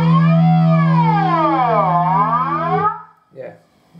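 A distorted guitar runs through a 1983 Boss BF-2 flanger pedal with resonance turned high. A loud, siren-like metallic sweep dives down and back up for nearly three seconds, then cuts off, followed by a brief faint sound.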